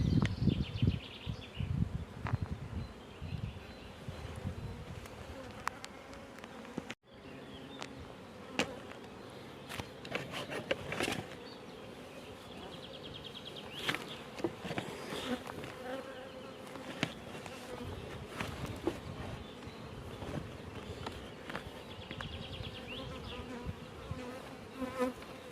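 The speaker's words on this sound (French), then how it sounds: "Logiquement, les abeilles devraient être autour de la petite cagette pour montrer qu'elles acceptent la reine." Honeybees buzz steadily around a queen cage during queen introduction, a close, continuous droning hum with bees passing near and away, no voices.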